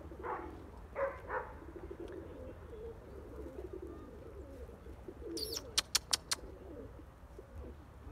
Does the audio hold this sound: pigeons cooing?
yes